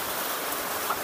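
Rain falls on and around a tree, a steady, close hiss of drops with no talk over it.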